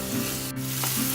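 Kerala-style masala for prawn roast stirred and sautéed in a pan: a loud, dense sizzle fills the short moment, broken by a quick scrape of the spoon.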